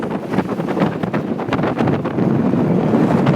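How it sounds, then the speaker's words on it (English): Strong wind buffets a microphone on a Tokyo street, a loud, steady low roar with gusty surges throughout. "the wind is strong"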